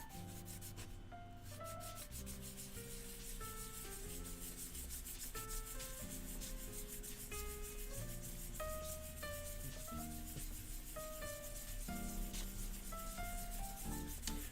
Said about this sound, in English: Let me go back to the finer grain sandpaper here.